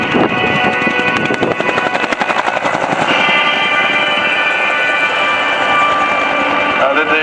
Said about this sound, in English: The helicopter today is being flown by Rob Tierney.